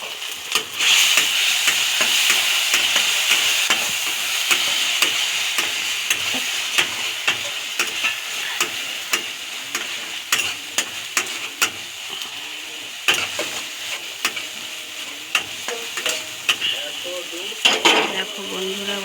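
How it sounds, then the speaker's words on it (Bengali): Spices with turmeric and Kashmiri chilli frying in a pan for khichuri, a bright continuous sizzle punctuated by frequent sharp clicks of a spoon stirring and scraping. "পরিমাণ মতো হলুদ দিয়ে মশলাটা কষিয়ে নেবো ভালো করে।"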